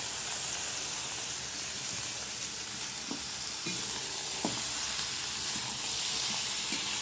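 Mutton sizzles in a pan on top of fried onions, a loud continuous hiss with occasional crackles and stirring scrapes, close up and with no voices.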